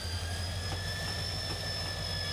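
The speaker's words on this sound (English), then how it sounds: "diesel engines make a very loud whirring sound like this." A diesel railway engine from Thomas & Friends gives off a continuous loud whirring drone with a steady high whine over a low rumble, unchanging throughout.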